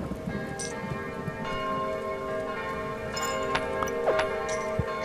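Steady rain falls in the video game Kingdom, a continuous wash of patter with bell-like tones and faint higher chimes ringing over it throughout.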